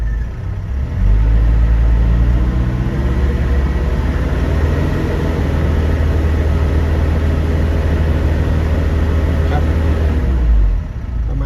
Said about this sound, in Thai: ผมจะลองเร่งเครื่องดูนะครับ เร่งเครื่องไปสัก สามสองพันห้าร้อยรอบแล้วกัน